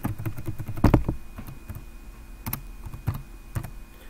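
A computer keyboard clicks under quick typing as a password is entered during a SQL Server 2016 install, a short burst of close, crisp keystrokes with brief pauses between them.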